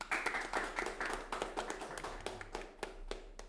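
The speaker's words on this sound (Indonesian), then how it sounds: "Tepuk tangannya dulu dong." A small group claps for guests at an Indonesian student vocational-school interview with a local film forum, a dense burst of sharp hand claps that thins out toward the end, close and fairly loud with no talk over it.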